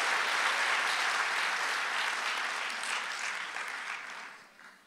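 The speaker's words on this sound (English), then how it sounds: "Clap your hands real loud if you believe that." Church congregation at an 11am service clapping hands, a fairly faint, dense crowd applause that holds steady and then tapers off near the end.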